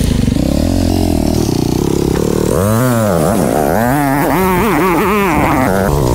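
A Scrambler motorcycle rides off-road on the way to a waterfall, its engine loud and close, droning and then revving up and down repeatedly.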